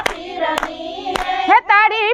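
Sharp hand claps ring out at a steady beat, sung over by voices in a Gujarati devotional song, three loud claps spaced evenly before the singing carries on alone.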